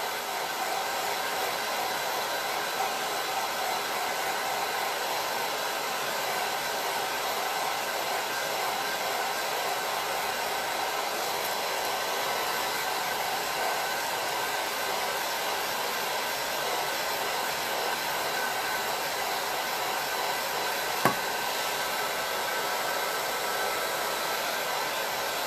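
A hair dryer blows steadily while drying crackle-technique paint, a continuous close whooshing hum that runs unbroken throughout with no talk.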